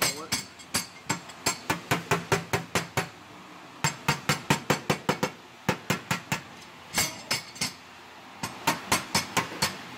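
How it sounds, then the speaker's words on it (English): A hammer taps out the high spots of a dent in a car's metal body panel. Quick bursts of sharp metallic knocks come close up and ring clearly, with short pauses between the groups. "Tap the high spots out."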